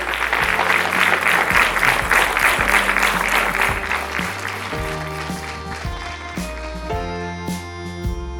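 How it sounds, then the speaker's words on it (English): Audience applause at a talk session at MIS Mussoorie, dense sustained clapping from a large crowd that fills the room loudly, then thins slightly as music-like tones rise beneath it toward the end. "So a big round of applause."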